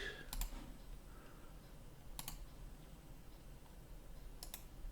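A computer mouse right-clicks three times while modelling in Plasticity 25.1. Each click is sharp, faint and isolated, spaced about two seconds apart against quiet room noise.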